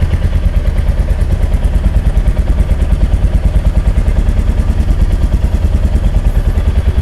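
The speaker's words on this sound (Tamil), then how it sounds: "இப்போ வண்டி ஸ்டார்ட்டில் இருக்குது. இந்த சவுண்டு பாருங்களேன்." A Royal Enfield Meteor 350 motorcycle engine idles loud and close, a fast, even thumping beat that holds steady throughout.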